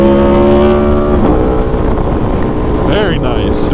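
Aprilia motorcycle engine accelerating hard during a wheelie, a loud, close revving drone rising in pitch with heavy wind rush over the microphone and a quick gear-change dip near the end.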